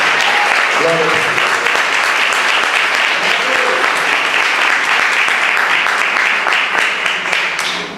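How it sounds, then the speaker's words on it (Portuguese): A church congregation breaks into sustained applause for God during a service, a loud, dense roar of many hands clapping that stays steady for around eight seconds, with a brief voice early on. "Alguém pode dar uma salva de palmas agora a Deus?"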